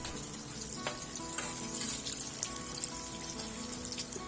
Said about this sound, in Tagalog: prituhin lang natin to sa mainit na mantika over medium heat